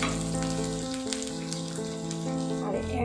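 Slit green chillies hit hot oil with onions in a pan, giving a steady close sizzle beneath a voice speaking throughout.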